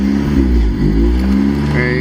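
A car engine catches and settles into a steady, loud idle, a deep continuous rumble that holds evenly from start to finish.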